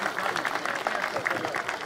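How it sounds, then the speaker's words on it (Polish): Sustained audience clapping fills a hall during the RKS Raków Częstochowa football team presentation, a dense, even patter with voices mixed in. "wielkie brawa dla Artura"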